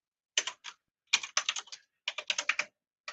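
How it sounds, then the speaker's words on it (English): Typing on a computer keyboard in three short bursts of crisp, close keystrokes separated by brief silences, with no other sound. "you probably can't see what I'm typing very well"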